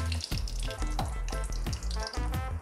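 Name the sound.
cashews and almonds frying with cardamom for apple sweet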